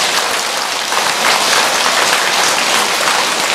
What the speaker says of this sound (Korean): 한 분 한 분 성불하라고 박수 한 번 더 쳐주세요.